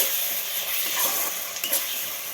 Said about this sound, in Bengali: লবণটাকে আমি এর মধ্যে মিশিয়ে দেবো